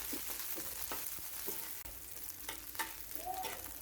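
Garlic and ginger sizzle steadily in a hot pan, a continuous near crackle with occasional stirring scrapes and small bursts, no voices over it.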